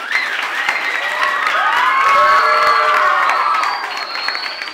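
Children cheer, whoop and shout shrilly at a school Olympiad award ceremony, with loud applause and excited high-pitched voices rising and falling throughout.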